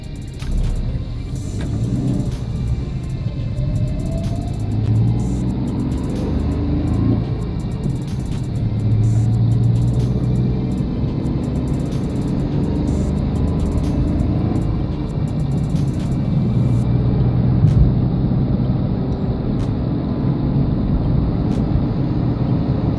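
The 800cc engine of a Renault KWID hatchback drones and rumbles as the car accelerates while driving. The sound is steady and continuous with no voices.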